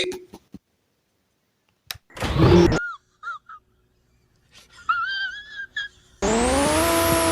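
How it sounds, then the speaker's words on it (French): A Lamborghini engine in the game Car Dealership Tycoon, heard as loud bursts of revving and roaring, with a squeal-like whine midway and a sustained high engine roar at the end, separated by silent gaps. "le son, c'est quelque chose de basique de Lamborghini"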